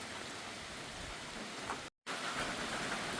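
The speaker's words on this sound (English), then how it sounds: "It's just rain coming straight down." Rain falls straight down without wind in a steady, dense hiss on the Appalachian Trail in North Carolina, broken by a brief silent gap before resuming at the same even level.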